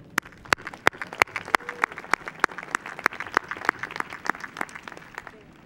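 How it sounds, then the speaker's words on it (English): Scattered, sharp individual claps ring out in a large hall at a Cal State Fullerton university commencement ceremony in 2015. They are spaced and distinct rather than a dense roar and sound fairly distant. "Let's give a strong round of applause for our class of 2015"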